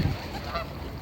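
Ducks give a single harsh, nasal honking call from close by, rising over a steady outdoor background with no voices.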